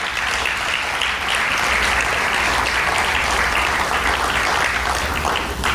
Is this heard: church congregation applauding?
yes